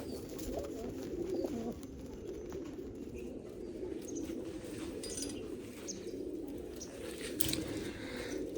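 Blue pigeons coo in a low, continuous murmur nearby, with faint chirps and a soft flutter of wings.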